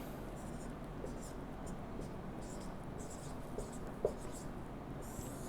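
Marker or chalk writing on a classroom board during a geography lecture on the Earth's layers, a soft continuous scratchy stroking with a couple of small taps, faint and close, with no speech over it.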